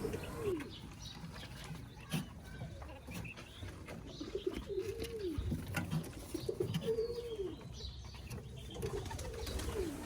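Farm pigeons, some brooding eggs, coo repeatedly nearby, their rolling throaty calls rising and falling in a loose rhythm over faint background rustle.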